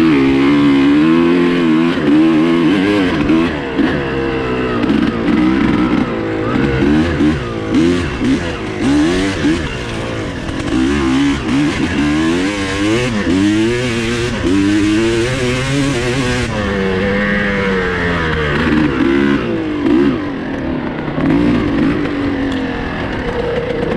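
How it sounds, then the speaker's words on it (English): Two-stroke dirt bike ridden on wooded trails, its engine buzzing and revving up and down constantly throughout, close and loud, with rapid throttle changes and no pause. "You forget how much fun a two-stroke is when you haven't been on one for a while."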